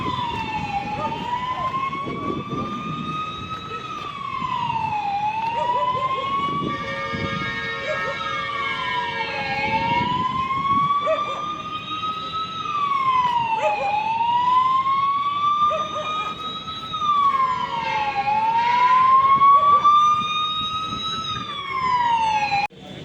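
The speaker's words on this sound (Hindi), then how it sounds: "यहाँ से एयर रेड वार्निंग का सायरन दिया जाएगा।" A loud air raid warning siren at a civil defence mock drill wails, rising and falling in repeated slow cycles, sustained and close, with a faint background rumble.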